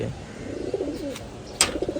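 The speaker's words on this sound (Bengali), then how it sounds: "কবুতরগুলোরে খাবার দিছি খাইছে" Soft, low cooing of pigeons close by, a few rolling calls in succession with faint rustling.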